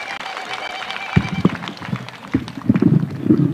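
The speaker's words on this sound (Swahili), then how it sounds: "Tumpigie makofi tafadhali." Crowd applause at a burial service for victims of illicit brews in Kenya, with scattered claps and rustling. It builds from soft, uneven patter into louder, denser clapping over the last two seconds, with no speech.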